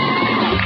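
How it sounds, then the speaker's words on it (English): Home crowd at a college football game between Black Hills State and CSU-Pueblo, a loud dense roar of cheering and yelling filling the whole moment with no break. "Gives the home crowd a little something to cheer about"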